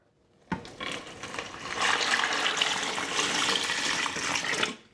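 Around 600 milliliters of water is poured into a Moreborn by Neasaka food composter over microorganism substrate, a steady, close splashing gush that starts abruptly and runs for about four seconds before cutting off.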